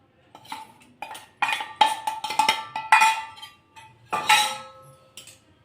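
Flour being mixed into plum cake batter in a bowl: a spoon clinks and scrapes against the bowl in irregular bursts of stirring, close and fairly loud, with no voices.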